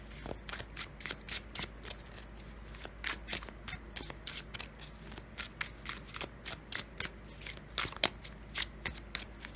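Tarot cards are shuffled by hand close up, a steady run of quick soft riffles and flicks repeating throughout, quiet and with no talking.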